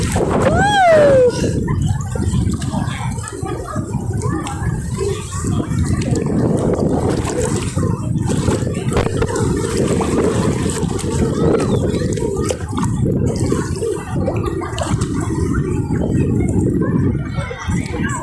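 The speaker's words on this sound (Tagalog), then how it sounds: "Ang lakas ng alon." Strong ocean waves at Bondi Beach roll in as a steady, close, loud roar of churning surf and wash that fills the whole stretch without pause.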